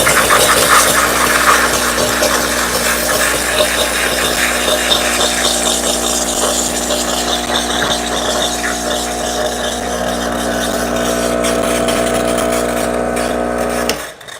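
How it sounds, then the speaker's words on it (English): Single-boiler espresso machine, a Breville Barista Pro or Rancilio Silvia with PID, runs hot water through its pump: a steady loud mechanical hum with stacked tonal lines and a watery hiss, continuous for the whole stretch before cutting off at the end. "Actually, you have to introduce the cold water to your single boiler. The best way to do that is run the hot water."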